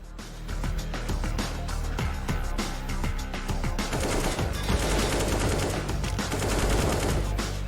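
Rapid bursts of AK rifle fire from a Counter-Strike match on the Nuke map ring out loud and continuous, with dense overlapping shots and echoing reports and no talk over them.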